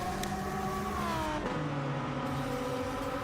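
A race car engine drones in a sim racing video game. The tone holds steady and high, dips briefly as if shifting gear partway through, then resumes at a lower pitch without a break.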